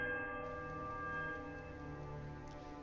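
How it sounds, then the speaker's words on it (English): The right bell in the fantasy role-playing game Pillars of Eternity sounds a steady, ringing peal rich in overtones, holding fairly level and slowly fading across the few seconds without any voices. "Now let's try the right bell."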